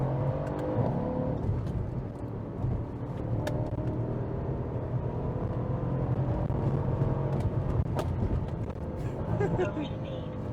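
A 2017 Mercedes-Benz C63 AMG with its V8 accelerating hard, heard from inside the cabin as a steady, loud engine drone that builds and holds for several seconds, with brief shift changes.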